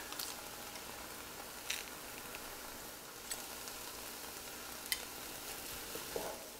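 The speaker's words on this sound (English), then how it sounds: "I'm just going to saute these until the onions are translucent, the peppers are tender." Onions and bell peppers sautéing in a pan, a faint, even hiss of sizzling with a few brief clicks from stirring, quiet throughout.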